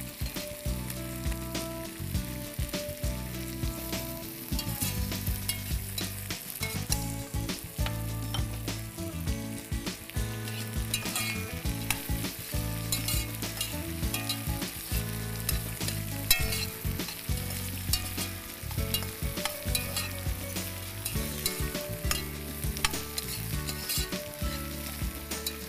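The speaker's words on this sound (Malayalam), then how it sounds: "ഇതിലേക്ക് നമ്മൾ നേരത്തെ ചെറുതായി അരിഞ്ഞു വെച്ച പൊട്ടറ്റോ ചേർത്ത് കൊടുക്കാം." Thinly sliced potatoes fry with onion in a pan, giving a steady, close sizzle under repeated stirring and scraping with a utensil. The sound runs for about twenty-five seconds, and no one speaks.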